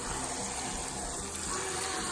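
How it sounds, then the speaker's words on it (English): Tap water gushes steadily into a container to soak seeds for fodder, a continuous, even rush with no pauses and no talking. "I'm gonna just fill this up so all the seeds can be in the water."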